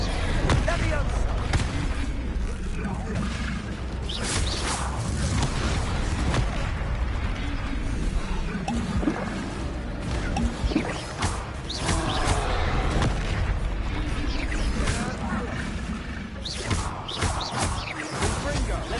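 Spell explosions and combat effects from Confringo casts in the Hogwarts Legacy video game, dense repeated booms and impacts over a busy battle mix with game music and voices.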